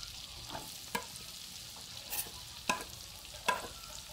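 Garlic frying in melted butter in a pan, a quiet bubbling sizzle punctuated by several sharp utensil clicks and scrapes spaced about a second apart, no voices.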